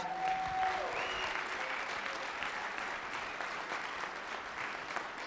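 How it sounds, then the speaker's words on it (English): Steady applause from a sizable audience at an awards celebration fills the clip, even and continuous, with a brief tone near the start. "let's give the national IP organizations a round of applause"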